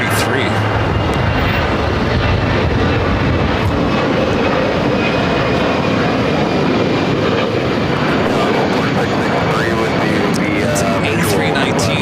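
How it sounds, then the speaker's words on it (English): A JetBlue Airways jet takes off from runway 25 right at Los Angeles airport, a loud, broad engine roar filling the air steadily throughout, with faint commentary underneath. "Our next takeoff is JetBlue Airways flight 1124"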